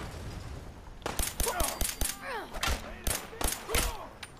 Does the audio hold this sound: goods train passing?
no